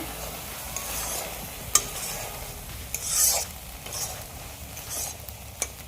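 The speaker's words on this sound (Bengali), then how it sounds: "আমি ভালোভাবে নেড়ে মশলাটাকে মিক্স করে নিয়েছি" Boiled Maggi noodles stirred with their masala spice mix in a pan, with a continuous close scraping and stirring texture, soft sizzle underneath and a few sharp utensil clicks against the pan.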